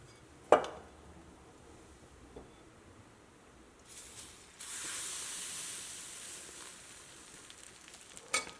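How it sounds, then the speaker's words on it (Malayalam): Appam batter poured into a hot pan: a soft clatter, then a sudden broad sizzling hiss that holds for a few seconds and fades, close and quiet, with a knock at the end. "അപ്പോൾ ഇനി ഇതിലേക്ക് നമുക്ക് മാവ് ഒഴിക്കാം."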